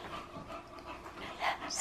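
A dog pants steadily at close range in a home, quick breaths continuing throughout with a brief whimpering or yipping sound near the end.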